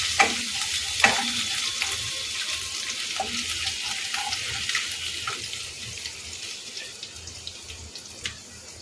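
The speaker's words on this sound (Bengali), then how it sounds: "এটা হালকা ভেজে নেবো খুব বেশি ভাজা দরকার নেই" Grated ginger and green chillies frying lightly in a pan give a soft, steady sizzle, broken by a few faint scrapes and clinks of stirring.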